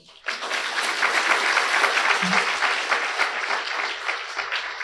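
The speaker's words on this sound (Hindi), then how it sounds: "ताली बजाओ।" An audience at a spiritual class bursts into sustained, dense clapping that starts abruptly and holds steady and loud throughout, with no speech over it.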